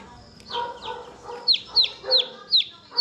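Newly hatched chicks peep in a run of high, rising-falling calls, close by, about six in three seconds, with softer clucking chatter beneath.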